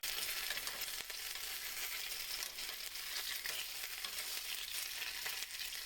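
Brats frying in a pan on a stovetop, a steady close hiss of sizzling fat with faint pops and crackles, continuous and without talking.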